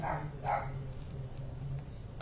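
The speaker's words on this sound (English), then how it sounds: "They're barking at each other." Two short barks, fairly distant and muffled, sound near the start, followed by a low steady hum.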